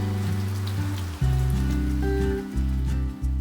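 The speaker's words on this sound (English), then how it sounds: "It's raining. Suddenly. This is Guangdong weather." Sudden rain falls in Guangdong, a steady close hiss of drops on surfaces beneath a loud low droning layer that cuts out and returns in abrupt steps, with no voices.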